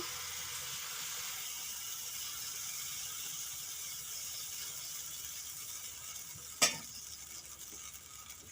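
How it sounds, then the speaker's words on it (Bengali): Semolina (suji) breakfast snacks fry in oil with a soft, steady sizzle and hiss. A single sharp clatter rises near the end, and no one speaks. "এইভাবে সবগুলো আমি ভেজে নেব"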